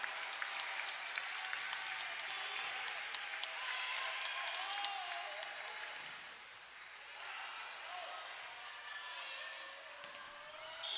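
Volleyball crowd applauding and cheering on their feet inside an arena at College Park, Maryland, a steady dense wash of clapping with scattered shouts and a commentator talking over it.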